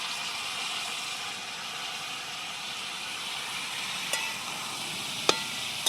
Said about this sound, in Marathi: अशी टाकून चांगली परतून घेते